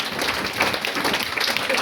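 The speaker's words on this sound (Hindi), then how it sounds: "बच्चों, आप सबकी भरपूर तालियों में सर अर्जुन कुमार साहब।" Audience at a school independence day function applauds, a dense, continuous burst of clapping heard up close, loud and fairly even throughout.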